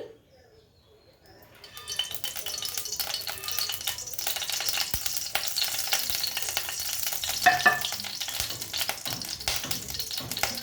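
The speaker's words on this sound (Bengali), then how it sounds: "এই তেলের মধ্যে আমি এই ব্যাটারটা ছেড়ে দেবো" Lentil-flour batter for dhokar dalna hits hot oil after a quiet start, then sizzles and crackles steadily and loudly, with occasional stirring clinks.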